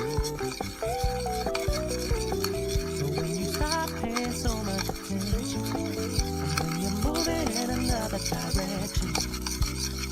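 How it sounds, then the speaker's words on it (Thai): Continuous scraping and stirring of caramel in a pan, with a spoon clinking and rubbing against the metal in a busy, steady rhythm. "เราคนให้เข้ากันจนเป็นคาราเมลนะครับ คนไปเรื่อยๆนะครับ"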